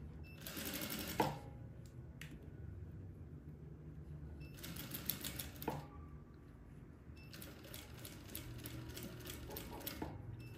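Straight-stitch sewing machine stitching fabric with elastic, running in three bursts of rapid mechanical whirring separated by short pauses, close and fairly quiet, with small clicks between runs.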